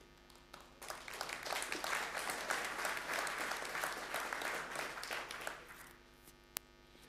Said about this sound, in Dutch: Wel een applaus daarvoor.